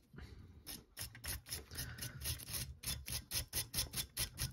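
Wire brush scrubbing all around a hot cable lug to clear solder from its grooves, a fast run of close, rhythmic scratching strokes that repeat steadily and alone.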